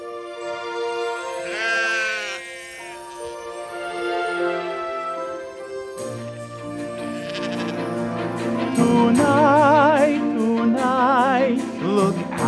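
Sheep bleating in a series of wavering calls, one animal alone at first and then several overlapping with rhythmic clicking beneath them, loud and close, with no talk over them.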